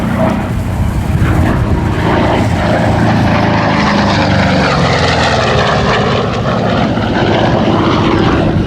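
A Republic P-47D Thunderbolt named Nellie flies past at the Duxford Air Festival, its heavy piston radial engine and propeller roaring loudly and steadily throughout, the pitch shifting slowly as the fighter passes.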